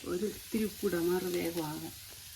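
Sliced onions sauté toward browning in a pan for chicken biryani, giving a soft, low sizzle that runs beneath a person speaking throughout.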